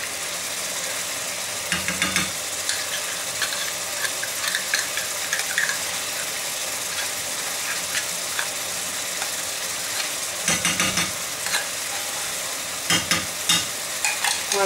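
A tomato paste mixture sizzles steadily in a pan while a utensil stirs it, with bursts of scraping and knocking around two, eleven and thirteen seconds over the constant frying hiss.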